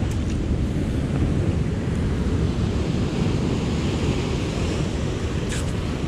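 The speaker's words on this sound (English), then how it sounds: "big waves coming in" Big ocean waves rolling in at night along a dark shoreline, a dense continuous roar of surf with wind noise on the microphone, loud and close, steady without pauses or talk.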